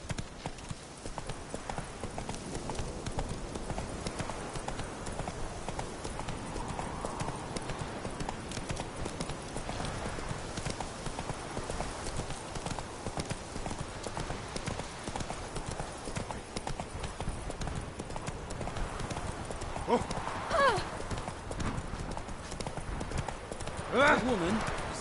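Horse hooves clip-clop steadily in a PS4 video game, an even rhythmic trot running the whole time at moderate loudness, with a few whinnies near the end and someone talking over it.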